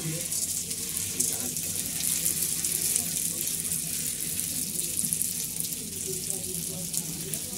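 Flour rice pellets fry in ghee with a steady, loud, continuous sizzle and hiss throughout, close by.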